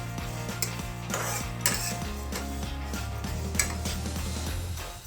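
A spoon scrapes and clinks in a pan as moong dal is dry-roasted without oil over a low flame, with soft irregular stirring sounds and light metallic knocks under quiet background music.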